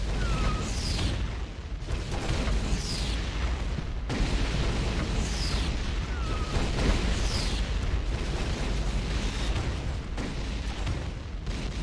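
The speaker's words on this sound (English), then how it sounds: "Scorpion missile launcher." Repeated booming blasts from a Scorpion missile launcher in a video game, with heavy rumbling explosions recurring every couple of seconds under continuous loud noise and faint whooshing projectiles.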